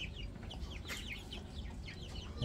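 Young chicks on a backyard chicken farm cheep in rapid, repeated high peeps at close range, a steady faint chorus with no talking.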